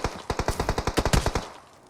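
Rapid automatic gunfire aimed at the player in the mobile battle royale game PUBG Mobile, a tight burst of about fifteen loud, evenly spaced shots in just over a second, alone and close.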